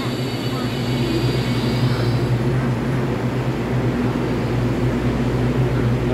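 A twelve-car EMU3000 electric multiple unit express train with red livery passing on a Taiwanese line, a loud steady rumbling roar sustained throughout with a constant low hum.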